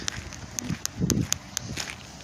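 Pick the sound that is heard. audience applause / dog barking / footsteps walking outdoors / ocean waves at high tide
footsteps walking outdoors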